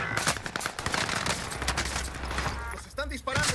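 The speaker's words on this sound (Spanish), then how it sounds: "Los están disparando" Rapid automatic gunfire in the video game Warzone rattles almost continuously in dense, loud bursts, with excited voices talking over the shooting.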